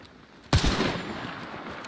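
A single loud gunshot from a video game bursts out suddenly, then decays into a rumbling tail.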